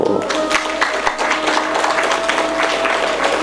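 Audience at a gathering with Shoonyo Ji Maharaj applauds in a steady, dense wash of hand claps lasting a few seconds, with a faint sustained tone running beneath and a voice briefly heard.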